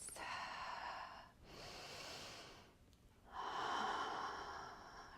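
Slow, audible breaths during a gentle chair yoga session, two long airy exhalations close to the microphone separated by a brief pause, with no speech.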